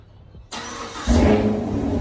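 A Chevrolet Camaro SS, recently repaired though not fully complete, starts abruptly after a brief quiet moment, then its engine swells louder and settles into a steady, close, full rumble with no talk over it.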